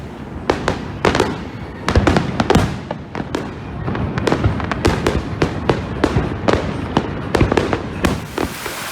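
Fireworks at the Sharjah Light Festival explode again and again, sharp loud bangs and crackles at irregular intervals, some nearby and some more distant, over a rumbling background.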